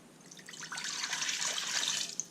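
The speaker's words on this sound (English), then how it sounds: "We're going to pour in here the water." Water is poured into a cooking pot on a stove set to medium heat while applesauce is being made, a steady splashing rush that builds over a couple of seconds and ends with a small final splash.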